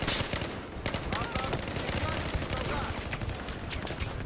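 Heavy sustained gunfire in a Battlefield 4 battle, dense overlapping shots filling the scene with constant loud crackle and boom, with some voices in the mix.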